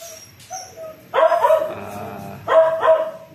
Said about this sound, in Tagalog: ang aso sa labas ay nagtatahol